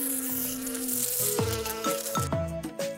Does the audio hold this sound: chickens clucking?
no